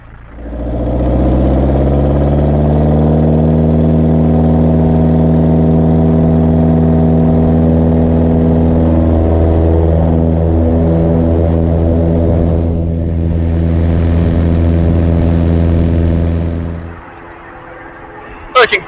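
A Piper Cub light aircraft engine runs up to takeoff power, a loud, steady propeller drone with strong harmonic hum that holds for about fifteen seconds, wavers slightly, then cuts off abruptly with a brief clatter at the end.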